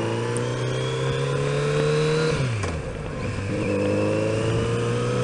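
A Can-Am Spyder three-wheeled motorcycle engine hums steadily on a small-town main street, its pitch dipping as it shifts or passes, then settling back into a constant drone nearby.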